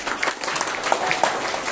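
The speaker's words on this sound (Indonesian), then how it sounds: "Tepuk tangan." Brief scattered applause from a church congregation at a prayer service, a few uneven claps over roughly two seconds with faint voices underneath.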